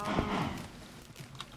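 Cows moo in a small Minecraft cow farm, one loud low bovine call at the start fading out, followed by a few faint thumps and a short higher sound.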